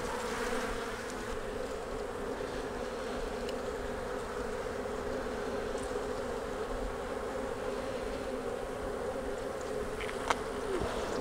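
Honey bees buzz steadily in an open hive during a queenless check, a dense, continuous hum close by throughout with no talk.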